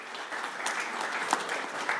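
Audience applause at a formal summit introduction, a steady close patter of many hands clapping with no talk over it.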